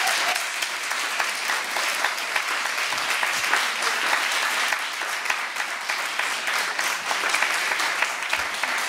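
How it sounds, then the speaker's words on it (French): A conference audience at a question-and-answer debate gives the speakers loud, dense applause that holds steady for the full stretch as a continuous wash of many hands clapping. "je voudrais d'abord remercier nos intervenants, vraiment un applaudissement"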